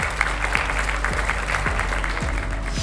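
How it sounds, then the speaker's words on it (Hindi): An audience applauds at the grand finale of a 56-item thali eating challenge, a steady wash of dense clapping throughout, loud and continuous. "एक बार अपने भाई के लिए तालियां बजाइए"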